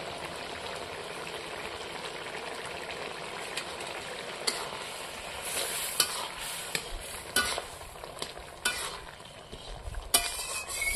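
A spoon stirs and scrapes a thick curry gravy in a pan after garam masala goes in, giving a soft sizzle under scattered clinks and scraping strokes, with no one speaking.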